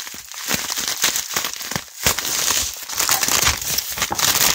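A delivered package is torn open by hand, giving close crinkling, crumpling and ripping bursts of packaging with short pauses, and no talking.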